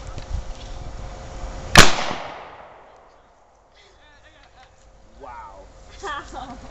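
A single loud, sharp blast from a potato cannon rings out and decays, followed by quiet and then people talking excitedly.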